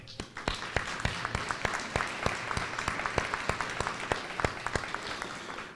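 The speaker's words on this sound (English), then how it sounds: "that is definitely worth a round of applause." An elementary school audience claps for distinguished students at a red carpet celebration, sharp individual claps standing out close by over a broad layer of applause, with no talk.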